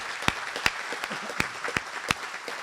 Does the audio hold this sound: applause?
yes